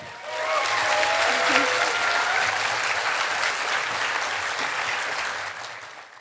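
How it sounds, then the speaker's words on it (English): A crowd at an outdoor vegan campout festival gives a big round of applause for a speaking vet, a loud sustained wash of many hands clapping that swells in and fades near the end. "So give a massive round of applause for Dr. Alice Brough."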